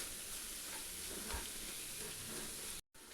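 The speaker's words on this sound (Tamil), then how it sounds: "இப்போ இதை வதக்கலாம் பச்சை வாசனை போக." Spice masala of chilli powder, coriander powder and garam masala sautés with tomatoes in a pan, a steady loud sizzle and hiss with soft stirring scrapes throughout, briefly cutting out near the end.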